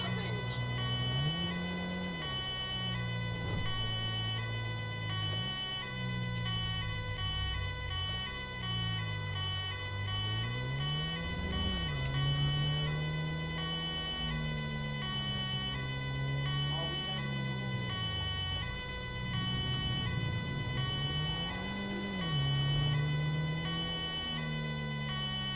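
Wailing ambulance siren from a GTA 5 ambulance mod, a rapid responder vehicle, cycling up and down continuously in repeated sweeps over engine hum, loud and steady throughout with a faint voice underneath.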